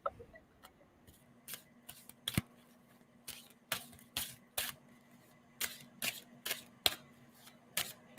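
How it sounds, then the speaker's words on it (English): Tarot cards are shuffled by hand in a series of short, crisp slaps and flicks at an uneven rhythm, close and fairly quiet, with no one talking. "tell me when to stop shuffling on that"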